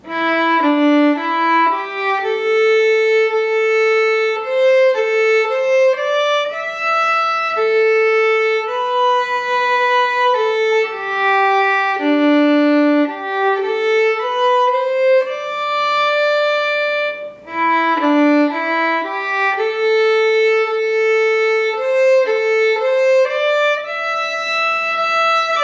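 Solo fiddle plays the A part of the old-time tune Cold and Frosty Morning, a steady stream of clear bowed notes with one brief break in the middle, close and unaccompanied with no talking.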